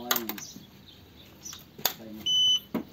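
A Koso speedometer on an e-bike beeps once after an NFC card is tapped on its side: a short, steady, clear electronic tone, close, among faint handling clicks.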